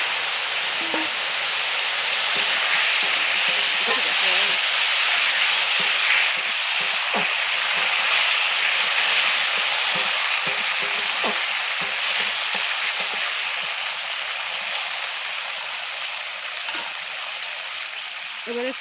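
Papaya and potato pieces sizzle loudly in a pan of hot oil tempered with black cumin seed, for fish curry: a steady, close frying hiss that stays dense throughout and eases slightly toward the end, with faint utensil clicks scattered through it.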